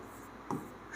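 Chalk or marker scratching across a classroom board during a maths lesson, a short close stroke with a louder scrape near the middle and end.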